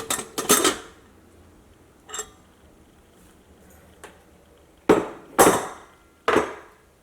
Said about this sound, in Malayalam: ഇനി നമുക്ക് കുക്കർ തുറക്കാം.